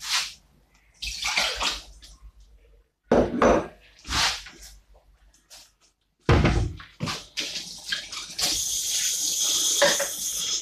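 Liquid poured out into a bowl while making Liberian pepper sauce, heard as several separate bursts of splashing and clattering at close range, ending in a steadier watery pour, with no talking.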